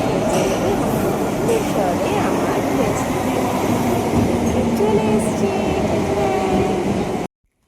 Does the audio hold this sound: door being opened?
no